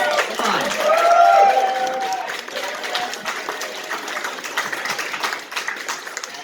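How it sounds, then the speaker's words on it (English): Audience applause at a fan convention voice actor panel (Chaos Creators '22): a broad, crowd-wide clapping wash that swells early and then holds steady, mixed with murmuring voices. "Can we also give Kevin a big round of applause"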